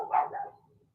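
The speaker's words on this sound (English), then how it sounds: "the dogs have spotted something that they want to bark at" A dog barks in a short burst, a couple of loud, close yaps trailing off into a fading whine as it reacts to a brown truck outside.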